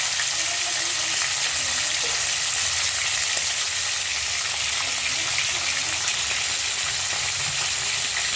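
Constant even hiss of fish frying in a pan, a steady sizzle with faint crackles and no voices.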